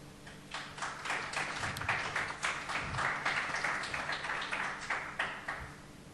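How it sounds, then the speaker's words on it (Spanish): Audience clapping at a film festival meeting with two guests, many hands applauding in a sustained, moderately distant patter with sharp individual claps. "Yo de mano os pido un aplauso para los dos"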